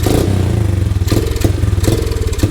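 A Honda CRF 50 motorcycle engine runs up close, loud and rough, with a rapid uneven putter and periodic bogging surges and clattering thumps, with no talk.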